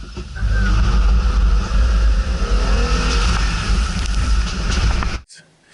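2020 Jeep Gladiator Rubicon with a 3.6 V6 engine revving high, a loud steady roar held for about five seconds before cutting off abruptly.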